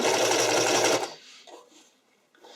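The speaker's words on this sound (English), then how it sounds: "I'm just going to sew about 1 inch to get this tacked down to the front to start" A sewing machine stitches figure skating skirt fabric in a loud, steady whir for about a second, then stops abruptly, leaving faint handling sounds.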